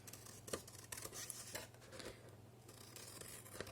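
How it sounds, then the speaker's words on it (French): Scissors snipping the corners of paper for a scrapbook album page, a faint series of quick, close cuts over steady background hiss and hum. "je coupe mes coins"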